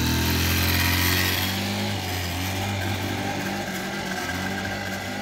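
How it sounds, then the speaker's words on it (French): A 2021 JM Motors 50cc four-stroke scooter engine idles steadily after a cold start, a close, continuous buzzing drone with a slight rise in the first second, then an even, unbroken putter. "Donc là je suis content de l'entendre démarrer."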